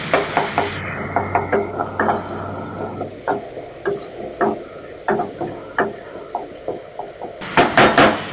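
Tomatoes being mashed and stirred in a cooking pot for a fresh peas and potato korma, heard as a steady run of short scraping, tapping strokes in an uneven rhythm, close and fairly loud with a faint sizzle beneath and no talking.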